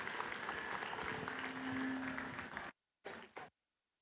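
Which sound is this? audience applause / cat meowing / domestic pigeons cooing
audience applause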